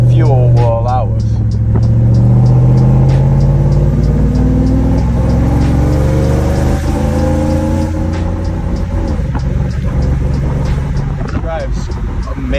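A Whipple-supercharged Ford F-150 pickup drives along, its engine droning and rising in pitch as it accelerates, loud and close, with someone talking over it.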